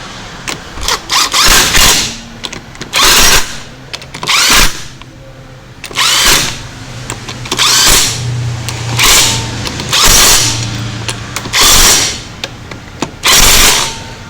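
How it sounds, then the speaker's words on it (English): An impact wrench rattles on the wheel nuts of a VW Transporter van. About eight loud, harsh bursts of a second or so each are separated by short pauses, with no talking. "you always put them on by hand first before you hit them with the rattle gun"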